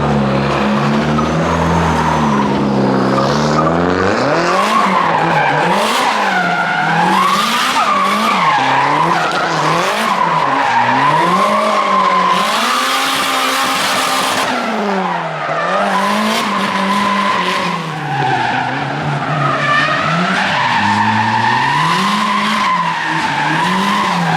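A loud truck engine roars up close at night with rising and falling revs and screeching tires, continuous and intense throughout with no talking.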